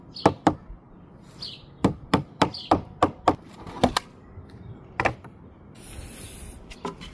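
A hammer knocks a cabinet part into place, a dozen or so sharp, close wooden strikes in irregular bursts, with brief quiet gaps and a soft rustle near the end.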